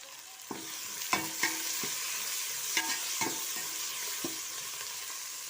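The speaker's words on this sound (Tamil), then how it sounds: "இது ரெண்டும் சேர்த்து நம்ம இதையும் சேர்த்து இதிலே போட்டு வதக்கிக்கலாம்" Tomatoes with a handful each of mint and coriander sauté in a pan for chicken dum biryani, a soft, continuous sizzle broken by repeated scraping knocks of a spoon stirring, fairly quiet and close, with no voices.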